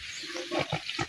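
Pigs grunting in their pen at a small local pig farm in Assam, a few close, rough grunts and snorts coming in short irregular bursts that grow louder toward the end.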